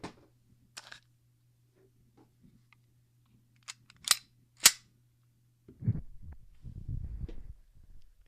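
A firearm fires a few sharp, loud reports a moment apart over a faint steady hum, and then low rumbling handling noise follows.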